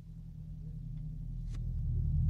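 A Subaru car passing by on a residential street, a low steady engine rumble swelling louder over a couple of seconds as it draws near.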